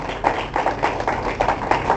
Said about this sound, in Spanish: Un aplauso a nuestro Cristo glorioso.